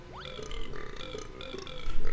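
Captain Blubber's burping voice in Banjo-Tooie, a short run of gurgly, babbling burp-like vocal sounds with a rising chirp at the start, close and fairly quiet.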